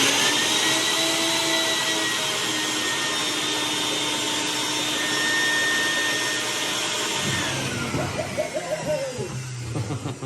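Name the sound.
shop vac filling an aquarium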